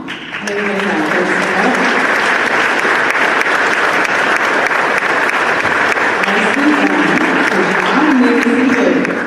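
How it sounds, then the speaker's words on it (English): A large school assembly audience bursts into sustained applause that fills the whole stretch, steady and loud, with a faint voice underneath near the start and end. "and then we will clap for you"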